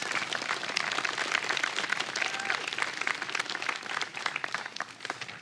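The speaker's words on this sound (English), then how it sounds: "And another round of applause for all three of our speakers." Steady, dense applause from a large audience at a university diploma ceremony, loud and sustained without a break and with no speech over it.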